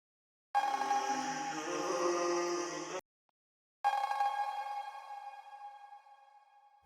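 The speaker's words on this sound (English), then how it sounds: "Cowbell." A cowbell in a hip-hop mix, processed with added brightness and harmonic distortion: two loud, bright metallic hits, the second ringing and slowly fading, played alone with no talking.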